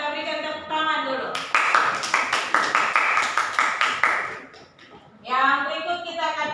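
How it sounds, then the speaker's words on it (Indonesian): A vocational-school classroom of students claps together for about three seconds after a presentation, a brief burst of crisp clapping framed by a speaking voice before and after. "kita berikan tepuk tangan dulu"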